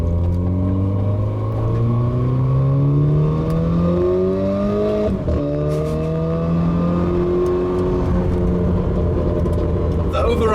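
A Renault Clio RS 220 Trophy hot hatch exhaust on overrun, heard from inside the car: a loud, continuous engine drone with pitch sweeping up and down and a few sharp pops near the middle.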